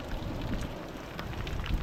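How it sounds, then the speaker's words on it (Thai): Rain falling on a rocky coastline during shore jig-casting for fish, a steady broadband hiss with light wind noise and scattered drop patter, close and continuous throughout. "ฝนตกนะครับฝนตก"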